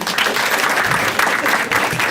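An audience at a stand-up comedy show breaks into dense, continuous applause, loud and close, with many hands clapping at once and no speech over it.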